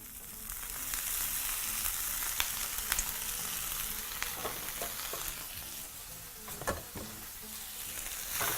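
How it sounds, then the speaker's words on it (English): Vegetables tossed into a frying pan with garlic give a steady, bright sizzle throughout, broken by a few soft clacks of a utensil against the pan. "proceed to move your vegetables to your pan"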